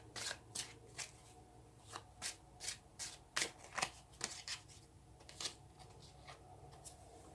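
Tarot cards shuffled by hand at close range, a series of quick crisp riffling bursts in an uneven rhythm, quiet and alone with no talking.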